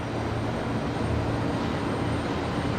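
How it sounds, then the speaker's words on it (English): A Qatar Airways Boeing 777 arriving on the runway, heard as a steady, loud broadband engine roar that holds level throughout without any speech. "We got the Qatari 777 here coming in now on runway"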